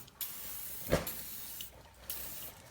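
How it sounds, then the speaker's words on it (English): Continuous hissing spray from a WD-40 aerosol can onto a 50cc motocross bike, steady and close, with a couple of brief sharper bursts and small pauses between. "now we're just going to put some WD-40 in"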